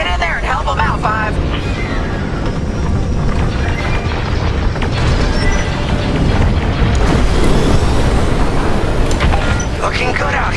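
Explosions and booming impacts as a Corvette takes heavy fire in Star Wars Squadrons, with continuous roaring space-battle noise and voices talking over it.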